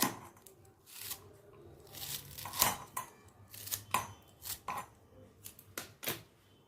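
Coriander leaves being chopped with a knife on a board, a series of sharp, irregular cutting taps up close, with no talk over them.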